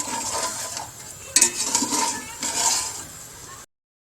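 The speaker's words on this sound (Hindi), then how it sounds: "अब इसके अंदर हम ये यखनी डाल देंगे। अच्छी तरह हिलाएंगे।" Yakhni broth is stirred into tender cooked meat in a pot, with a spoon scraping and clinking against the metal over a soft sizzle, then the sound cuts off abruptly.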